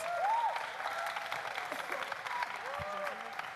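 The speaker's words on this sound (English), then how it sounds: "Let's give them one more round of applause." Applause from the audience at a human rights town hall with indigenous youth speakers, steady clapping across the whole stretch at moderate loudness, with some cheering and voices mixed in.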